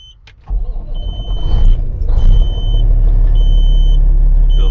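A flatbed truck's diesel engine cranks and catches after a brief click, then settles into a loud, steady, deep rumbling idle close by.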